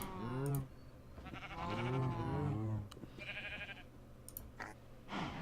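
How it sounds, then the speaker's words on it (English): Repeated wavering sheep bleats from a modded Minecraft Skyblock game, low and droning, with a few sharp clicks scattered between them against a steady background hum. "I can hear sheep"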